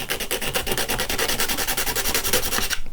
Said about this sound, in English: take this onto an emery board and sand it all over